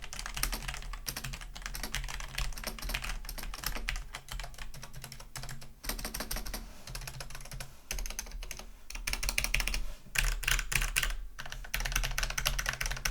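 Rapid typing on a Logitech G PRO mechanical keyboard, dense clacky keystrokes running steadily throughout with brief bursts and pauses, close and fairly loud, no voices.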